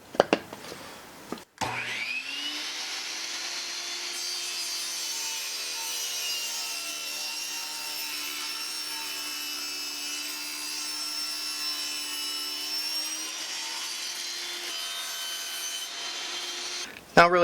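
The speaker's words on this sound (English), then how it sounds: "Then I'm just going to go ahead and run this right through my table saw." A table saw spins up with a loud whine and then holds a steady, high, ringing drone with a rasping edge as it cuts through wood for about fifteen seconds before a clunk at the end.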